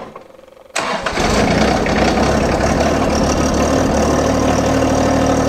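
A 2017 tractor engine cranks and catches after a short quiet moment, then settles into a loud, steady, rumbling idle that runs to the end.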